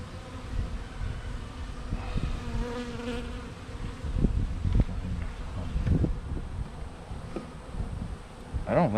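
Honey bees swarm around an active hive, a steady close buzzing drone with individual bees zipping past the microphone and light wind noise.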